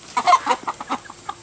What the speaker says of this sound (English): these chickens ran out of feed today, and Gina told me.